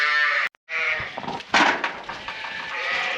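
Ewes bleating in a pen on a sheep farm, loud and close, with overlapping calls after a brief pause, then more scattered bleats continuing through.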